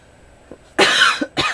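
A couple of short, harsh coughs close to the microphone, preceded by a faint throat sound, with a brief pause between bursts.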